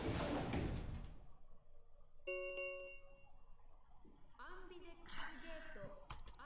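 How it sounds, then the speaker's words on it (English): Heavy metal warehouse doors in the video game Virtue's Last Reward grind and clang shut, a loud harsh rumble followed by ringing metallic tones and scraping clatter, with brief voice-like sounds near the end. "the warehouse was filled with the groan and clang of metal doors grinding shut"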